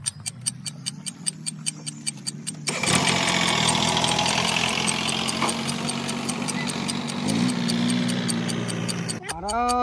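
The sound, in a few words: tractor engine running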